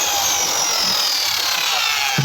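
A circular saw whines steadily as it cuts through wood, a continuous high buzzing grind with a brief knock near the end.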